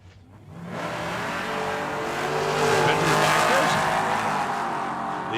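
A Dodge Hellcat and a Chevrolet Monte Carlo drag racing at a track, loud engines roaring steadily and swelling in the middle, with a faint voice underneath.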